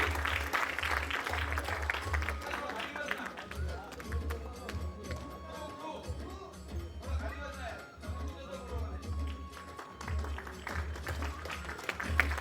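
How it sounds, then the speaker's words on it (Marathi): Audience at a Marathi kirtan competition event applauding honorees on stage, sustained clapping mixed with crowd chatter over a low hum, with voices talking throughout. "जोरदार टाळ्या त्यांच्यासाठी"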